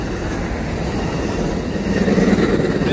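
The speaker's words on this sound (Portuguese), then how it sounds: "Olha o metrô passando" Metro train passing by near the sea, a continuous low rumble of rail cars that swells louder toward the end as the train draws closest, with no talk over it.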